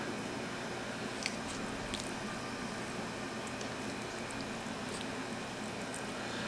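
Hands slather a heavy, even binder coating over country style beef ribs, giving a steady wet squishing and smearing with small sticky clicks, close and fairly quiet.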